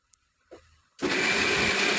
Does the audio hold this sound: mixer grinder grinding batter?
yes